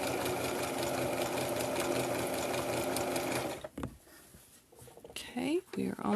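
A sewing machine stitches fabric for a scarf face mask, a close, steady rapid whir for several seconds before it stops, followed by quieter handling noises and a low voice.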